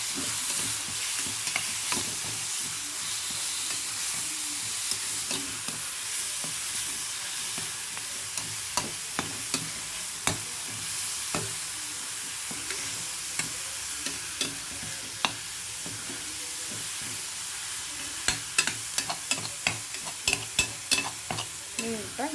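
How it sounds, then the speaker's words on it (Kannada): Ground paste for a green bean stir-fry sautéing in a pan, a steady sizzle with frequent sharp spatula scrapes and taps that grow more insistent toward the end, no voices. "ರುಬ್ಬಿರೋದನ್ನು ಹಾಕಿ ಬಾಡಿಸ್ತೀನಿ"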